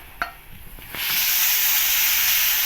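Grated fresh tomato poured onto garlic in a hot pan, a few light clicks and scrapes giving way to a loud, steady broadband sizzle that holds without pause.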